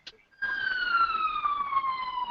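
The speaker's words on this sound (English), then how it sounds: "every time it's like sirens going" Police siren wailing outside after a brief noisy start, a loud sustained tone with overtones sliding slowly downward as it passes by, steady and fairly close.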